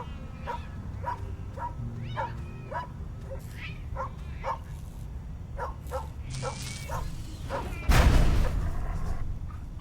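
A dog in the cyberpunk video game Tales of the Neonsea barks repeatedly in short, evenly spaced yelps over game music, followed by a loud burst of impact noise near the end.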